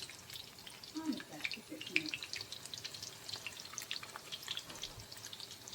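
Burger patties fry in a pan with a soft, steady crackle and scattered pops, low in level, under brief faint talk.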